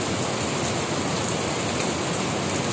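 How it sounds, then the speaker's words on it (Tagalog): Heavy rain pours down in an early-morning downpour, a dense, loud, unbroken hiss of drops on surfaces from start to end, with no voices. "Lakas ng ulan."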